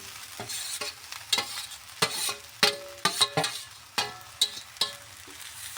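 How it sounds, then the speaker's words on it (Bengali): Flattened rice (chira) frying in a pan while being stirred, with repeated sharp scraping clicks of the spoon against the pan over a soft sizzle, irregular and close. "ভালোভাবে এবার চিড়াটাকে ভেজে নিচ্ছি।"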